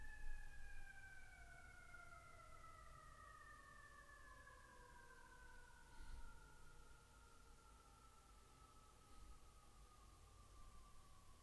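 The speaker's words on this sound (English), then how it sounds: "There are sirens." Emergency sirens passing outside during a quiet meditation, faint and distant wailing tones that slowly drop in pitch as they move away under a low background hiss.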